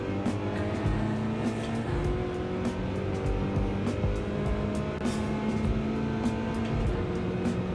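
Cars racing hard on warmed-up tyres in a Genesis G70 contest: a steady, loud engine drone with whining revs, sharp intermittent ticks and clicks scattered throughout.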